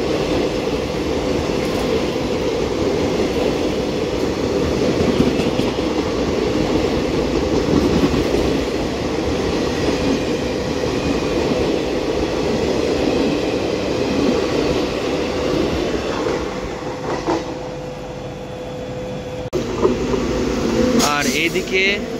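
Begampura Express rumbling past the Ganga Sutlej Express at Laksar, a continuous loud train roar with faint wheel clatter and a voice talking over it.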